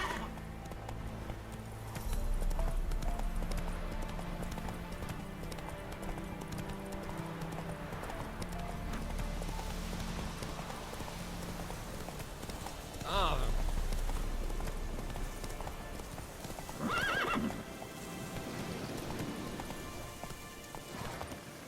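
A horse gallops through a rainy scene in The Witcher 3 on PS4, with quick hoofbeats clip-clopping steadily throughout, occasional whinnies and snorts, and rain in the background, while voices speak over it.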